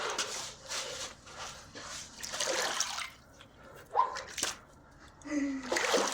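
Splashing and sloshing of someone wading through deepening, freezing water on a nature trail, with irregular surges and drips in bursts, close by; a voice calls out at points.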